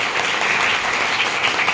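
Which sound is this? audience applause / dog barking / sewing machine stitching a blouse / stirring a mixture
audience applause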